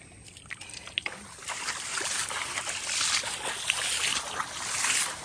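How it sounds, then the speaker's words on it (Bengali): Water splashing and trickling over freshly caught shrimp on a fishing boat on a Sundarbans river, a steady wet pour that grows fuller and louder toward the end, with scattered knocks at the start. "একটু জল দে উপরে।"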